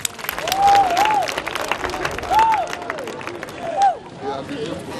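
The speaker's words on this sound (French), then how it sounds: "Sous vos applaudissements, c'était un élément de slam d'un Nigérien" An audience applauds after a slam poetry piece by a Nigerien performer, broad clapping and crowd noise running throughout while a voice talks over it with rising and falling pitch.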